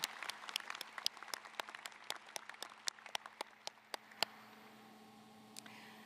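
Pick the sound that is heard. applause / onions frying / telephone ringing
applause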